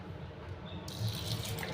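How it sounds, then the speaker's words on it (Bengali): Hilsa fish being washed under running tap water at a kitchen sink, a steady, quiet splashing stream that swells a little louder partway through, with no talking. "এখন ইলিশ মাছটা খুব ভালো করে ধুয়ে নেব জল দিয়ে।"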